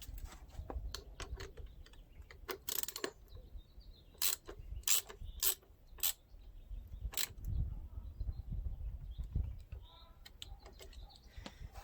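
A 13mm box wrench turns a nut on a GSXR motorcycle exhaust, making quiet metallic clicks and ratcheting taps in irregular bursts. The sound is close and faint, against a low background rumble.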